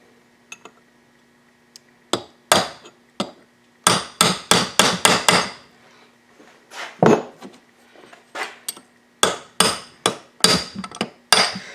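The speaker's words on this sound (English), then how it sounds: "Just use the little ugga-dugga gun." An impact wrench tightens bolts on a Yamaha WR426F engine during assembly, firing about a dozen short, loud, sharp bursts in uneven clusters with brief pauses between them. No one speaks.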